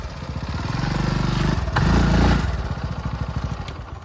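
A TVS XL 100 Comfort moped engine runs close by with a steady, rough putter that swells slightly as it revs and then settles back to an even idle-like chug.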